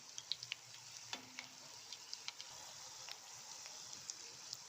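Murukku made with roasted gram flour frying in hot oil, a quiet continuous sizzle with frequent small crackles and pops scattered through, no talking over it.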